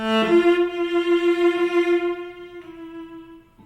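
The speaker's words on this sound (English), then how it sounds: "It's the lowest note on the cello." A single bowed cello note, the lowest note on the cello, held steady and rich for a few seconds, then thinning out and fading near the end, with no voices.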